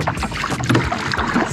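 A wooden rowing boat turns on Lake Bled, oars splashing and dipping in the water close by amid wind buffeting the microphone, over a short stretch.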